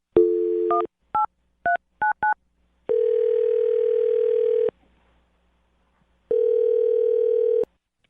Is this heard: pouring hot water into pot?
no